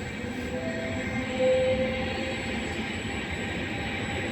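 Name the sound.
train at Padova railway station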